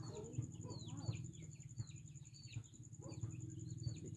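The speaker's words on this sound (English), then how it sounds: "bird" Bird calls chirp faintly and repeatedly against a steady high insect-like whine and a low background hum, with no talking over them.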